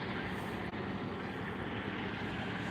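A helicopter circles overhead, producing a steady, broad engine and rotor drone that stays constant and fairly distant, with no clear voices.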